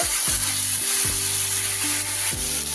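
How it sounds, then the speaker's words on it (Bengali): Ginger, garlic and green chilli paste frying in a pan for a dried-fish curry, with a continuous close sizzle, a few clunks of a spatula against the pan and no voices. "দুই টেবিল চামচ আদা রসুন আর কাঁচা লঙ্কা বাটা আদা রসুনের গন্ধ যতক্ষণ না যাচ্ছে খুব ভালো করে আমি কষিয়ে নেব"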